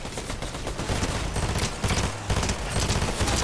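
Rapid automatic weapon fire in the Fortnite video game, dense overlapping bursts of shots that roll on continuously and loudly for the whole stretch with no pauses.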